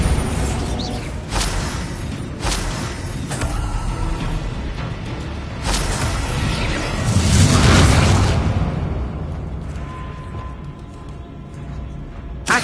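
Bombarda spell blasts in the video game Hogwarts Legacy, several loud booming bursts with whooshing tails at irregular intervals, followed by a rumbling explosion and a fading hiss.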